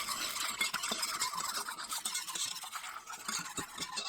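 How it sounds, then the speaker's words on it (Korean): A spoon briskly whisking a thin flour and water mixture for melon water kimchi in a bowl, a quick, close, watery swishing and light tapping kept up without pause. "밀가루 한 큰술, 물 500ml 넣고 섞어주세요."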